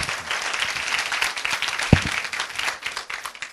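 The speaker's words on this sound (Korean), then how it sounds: "영상을 만든 팀들 박수 한번 했으면 좋겠어요." Church congregation applauding the team that made a video, a dense continuous wash of many hands clapping in the room, moderately loud and steady throughout.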